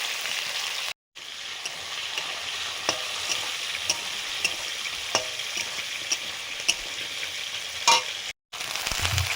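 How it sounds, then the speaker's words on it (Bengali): New potatoes, partly peeled, frying in leftover prawn-frying oil, a constant crackling sizzle with occasional spatula scrapes and taps, broken by two short silent gaps. "আলু কিছুটা ভাজার পরে"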